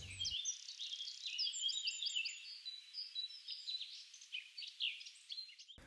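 Outdoor bird song taken with an Olympus LSP1 recorder, with a run of bright, quick chirps and trilled phrases repeating across several seconds, fairly clear against a quiet background.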